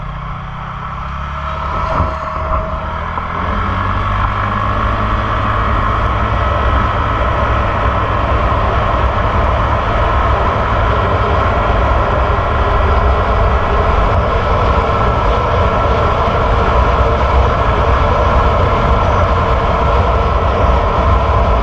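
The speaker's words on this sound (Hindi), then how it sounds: "चलिए अब स्कूटर को चला के देखते हैं।" A TVS Ntorq 125 Race Edition scooter from 2022 being ridden, its engine and wind noise forming a loud, steady broadband roar that builds in the first seconds and then holds constant throughout, with no talking.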